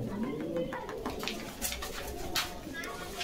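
Pigeons at a pigeon seller's loft in Bogura coo softly and repeatedly, with occasional wing flutters and background rustle, at moderate distance and fairly quiet.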